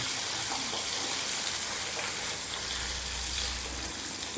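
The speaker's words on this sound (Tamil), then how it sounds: "இது நல்லா ஃப்ரை ஆகட்டும். கருகப்படாது, ஆனால் ஒரு மாதிரி கோல்டன் ப்ரௌன் ஆகணும்." Chana dal and dried red chillies frying in sesame oil for a puliyodarai mix, a continuous loud sizzle with a faint bubbling hiss and occasional stirring, without any talk.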